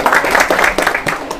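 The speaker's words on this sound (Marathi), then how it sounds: "तर मग जोरदार टाळ्या होऊ द्या" A studio audience at a quiz show breaks into brief, dense applause, the clapping steady and fairly loud throughout.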